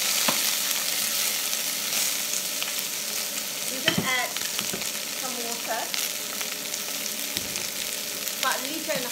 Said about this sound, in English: I've got some prawn shells which will go in my pan